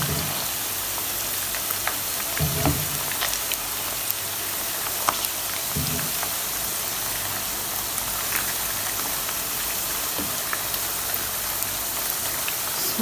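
Chicken koftas fry in hot oil, a continuous soft crackle like light rain, broken by a few dull knocks as the balls are turned one at a time.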